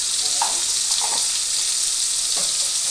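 Pointed gourd curry with tomato, onion and salt is stirred in a pan, a steady hissing sizzle with a few soft scrapes and clinks of the spoon, close and continuous.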